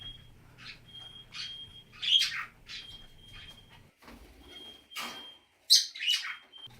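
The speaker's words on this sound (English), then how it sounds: "So now my budgies, Kakariki, and Java Finches are out." Budgies, kakariki and Java finches chirp and tweet in short, scattered bursts, some bright and sharp, over a faint steady high tone in a quiet room.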